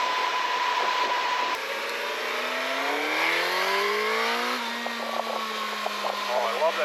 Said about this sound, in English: Oh, I love that inline four sound.